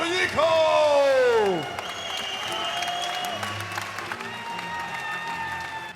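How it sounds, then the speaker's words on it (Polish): Spectators at a Strike King boxing event applaud and cheer after the bout. The clapping continues steadily under a loud announcer's voice that rises and falls over the crowd. "Wielkie brawa dla obu tych wielkich wojowników!"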